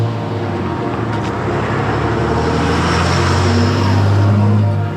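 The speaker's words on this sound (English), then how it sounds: "That was a loud truck." A heavy truck rumbles past close by, its low engine drone building in loudness and then fading as it moves away.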